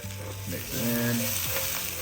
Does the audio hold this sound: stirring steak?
yes